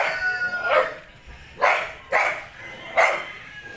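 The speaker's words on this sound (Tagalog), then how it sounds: "Takot lang dito, ang daming aso." Several dogs bark in a rural Philippine yard, four separate loud barks spaced about a second apart over quiet background noise.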